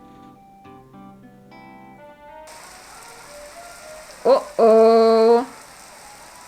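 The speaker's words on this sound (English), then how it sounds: "The rain only seems to be getting worse." Heavy rain in the horror visual novel Gore Screaming Show: a steady hiss of rainfall starts after a few soft musical notes, followed by a short exclaimed voice and a louder buzzing tone.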